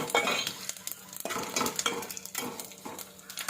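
Mustard seeds and other ingredients fry in a pan until browned, with stirring scrapes and a steady sizzle for a few seconds, close and moderately loud, without talk.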